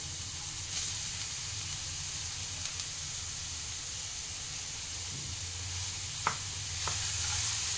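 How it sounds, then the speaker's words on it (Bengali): Carrots and mixed vegetables for Bengali vegetable chop fry in a pan with a steady, even sizzle, broken by a few faint scrapes and clinks from stirring. "সবগুলো একসাথে একটু নাড়াচাড়া দিয়ে দেবো"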